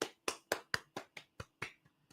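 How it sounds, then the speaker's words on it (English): Claps in a brief run of about nine, crisp and evenly spaced, close but soft, the last few a little weaker; sounds like one person clapping rather than a crowd. "A round of applause for me."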